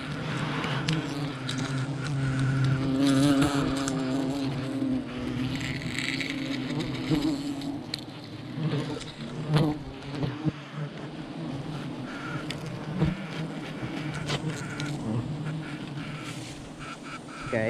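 Wild bees swarm around a nest with a swollen honeycomb in a coconut tree. Their dense, continuous buzzing is loud and close, with scattered knocks and rustles beneath.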